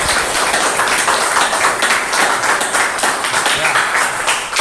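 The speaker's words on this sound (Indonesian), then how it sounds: "Oke, tepuk tangan untuk Eva ya." Classroom of students clapping for a classmate, a dense continuous patter of many hands close by, steady for several seconds before trailing off.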